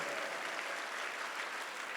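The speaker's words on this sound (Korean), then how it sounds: "김혜자 목사님을 위해서 이 시간 박수로서 하나님께 감사의 박수를 올려드리겠습니다" A church congregation applauds in thanks to God for a pastor at a Korean worship gathering, a steady, even wash of clapping held at a soft, somewhat distant level throughout with no voices over it.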